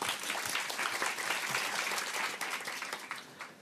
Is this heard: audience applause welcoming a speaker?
yes